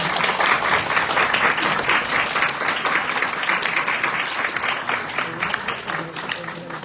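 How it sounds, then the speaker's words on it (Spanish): Strong applause from the audience for a panel of social scientists marking 20 years since the CVR Final Report: sustained, dense clapping that gradually softens toward the end. "Un fuerte aplauso para las participaciones."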